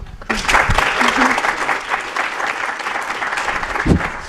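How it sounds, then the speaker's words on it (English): An audience at a panel discussion on virtual reality breaks into applause, a loud, dense clapping that starts abruptly and carries on steadily, with a few voices over it. "We'll give them a round of applause."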